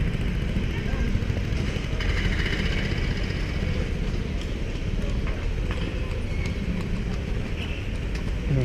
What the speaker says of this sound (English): all the bloody horse-drawn carts are out in force